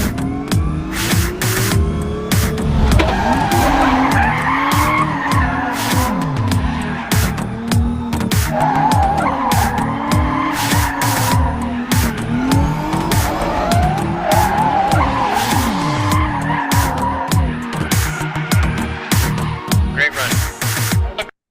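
Autonomous car drifting with its tires skidding and squealing continuously, wavering pitch as the slide changes, with engine noise underneath, loud and sustained throughout.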